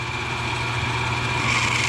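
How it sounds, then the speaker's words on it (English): Steady high-pitched motor whine from a power drill with a 3/16 bit drilling out rivets on a C4 Corvette seat track, running continuously and fairly loud, with no talking. "We'll drill a couple of them"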